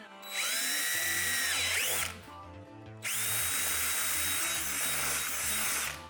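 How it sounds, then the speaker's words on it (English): A power drill whines loudly up close in two long bursts while drilling a hole to install RGB demon eyes, with a short pause between and a low rumbling grind under the motor. "We're going to drill a hole somewhere right here."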